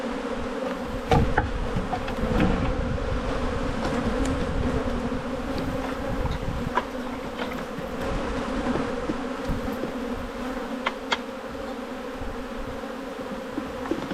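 Honey bees buzz steadily and densely around an open white hive during a brood inspection with splits, a continuous close swarm drone with a few sharp knocks from hive work.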